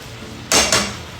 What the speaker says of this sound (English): I'm gonna mix everything together and make sure everything is all incorporated.